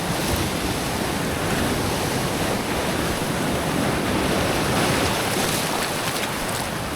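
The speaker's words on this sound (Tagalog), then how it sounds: "Abot pa rin pala talaga dito ng alon." Sea waves wash over rocks at a hidden fishing spot, a loud, continuous broadband rush of surf and churning water with wind buffeting the microphone, steady throughout and with no voices.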